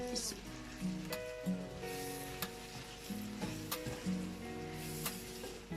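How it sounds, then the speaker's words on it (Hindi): Salt, turmeric and chili powder sizzling as they fry in a pan, with a soft steady hiss and occasional faint utensil taps, quiet and close, while a voice talks faintly underneath. "ये हमने नमक और मिर्च डालकर हल्का सा भून लिया है।"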